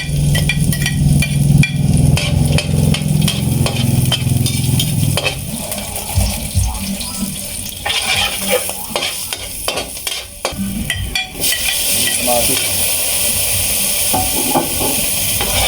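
Onion and garlic sautéing as aromatics for ginataang tinapa hiss and steam loudly in the pan, with stirring clatter midway and a strong, steady sizzle at the end, no voices.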